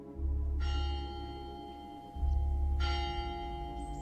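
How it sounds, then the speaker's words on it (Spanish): Two deep, resonant church bell strokes from a village cemetery about two seconds apart, each ringing out with long sustained overtones that hang in the air. "Unas campanas comenzaron a sonar en el cementerio del pueblo."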